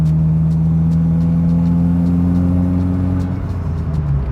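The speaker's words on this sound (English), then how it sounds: "The rumble of the Subaru engine that is turbocharged" Deep, steady rumble of a turbocharged Subaru Impreza WRX engine, a loud continuous low drone with strong harmonics, holding close and even throughout with no talking.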